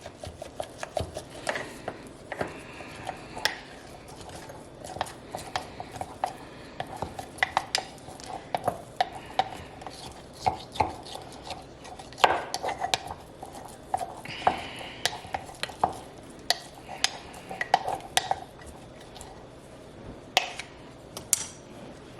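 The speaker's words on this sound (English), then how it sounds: "I have my little sourdough spatula" Sourdough starter being stirred in a container with a small spatula, giving repeated soft scraping and tapping strokes at close range in an uneven rhythm, with no talking.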